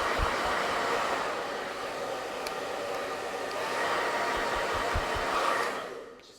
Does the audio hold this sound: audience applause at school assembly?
no